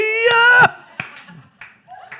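A few sharp hand claps ring out during loud, fervent prayer in a church gathering, with a raised, drawn-out voice calling out over the first claps and quieter murmuring between them.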